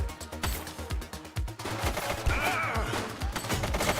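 Gunfire in a police shooter game, heard as rapid bursts of shots with sharp, regular reports, followed by denser continuous firing and a faint rising whine.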